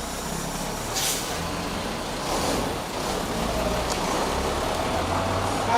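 A lorry pulls in at a Kenya Prison Service launch event, its low engine rumble steady throughout while short hissing bursts of air brakes break out near the start and middle, fairly close and loud.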